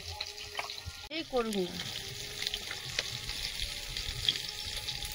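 Rohu fish frying in a pan, with a soft continuous sizzle and some stirring clatter, and a short voice speaking briefly near the start.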